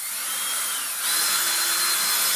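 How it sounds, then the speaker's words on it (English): A power drill whines steadily with a stiff bristle burnisher attachment, the pitch and intensity rising partway through as it presses against a chalk-style painted surface. "I have a tool called a burnisher, which goes into your drill."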